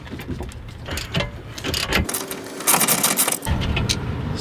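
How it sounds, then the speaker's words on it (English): A ratchet works loose a 14 mm lower control arm bolt on a Mazda RX-7, giving a busy run of close metallic clicks and clatter with a brief quieter gap midway and no talking. "we are going to loosen up this bottom bolt for the control arm"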